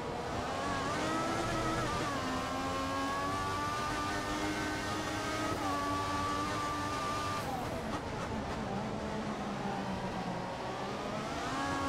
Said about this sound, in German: Jetzt fährt der Mercedes wohl oder übel vorbei.